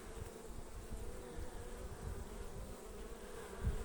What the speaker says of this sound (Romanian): Albinuțele au ieșit la zbor de curățire.